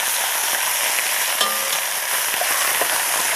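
Lamb navarin browning in a pan, a loud, steady close sizzle with crackling spits and light stirring scrapes throughout, no voices.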